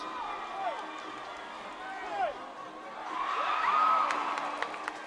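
A stadium crowd cheers a women's long jump by a Vanuatu athlete at the Pacific Mini Games, the roar swelling toward the end beneath an announcer's commentary, with whistling and shouts rising through the mix.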